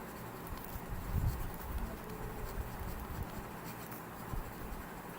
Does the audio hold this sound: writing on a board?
yes